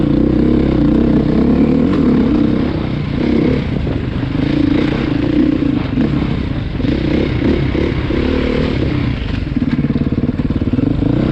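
A 2020 Beta 500cc dual sport motorcycle under way, its engine droning loudly and continuously with uneven throttle changes and mechanical clatter, heard from the rider's position.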